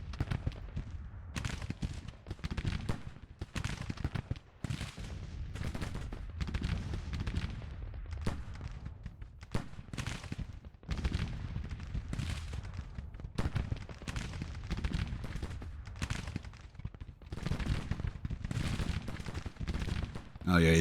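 Rifle fire crackles through a Grand Tactician: The Civil War battle, long ragged volleys of sharp overlapping shots rolling on for the whole stretch, loud and dense with brief lulls, a voice speaking over it at moments.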